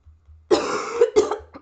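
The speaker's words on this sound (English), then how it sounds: "will be coughing, I'm sorry" A person coughs close to the mic, two harsh coughs with a short throaty catch at the end, alone.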